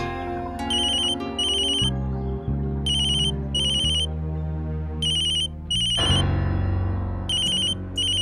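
A phone rings with an incoming call, its electronic ringtone chiming in repeated bursts over a steady music-like backing, sounding throughout at an even, moderate level with no talking.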